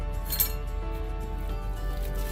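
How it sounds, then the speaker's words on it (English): A potato masher works sweet plantains on a flat plate, giving light clinks of metal against the plate over a steady low background hum. The sound is faint, with one slightly sharper knock early on. "Mash it up with a potato masher."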